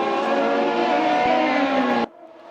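Race cars thunder along the Bushy Park circuit in Barbados during a Caribbean Motor Racing Championship round, a loud, sustained engine roar that cuts off abruptly near the end, leaving a quieter background.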